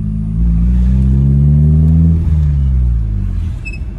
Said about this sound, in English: I think I have found the street that will give us a proper POV with the sound of the car.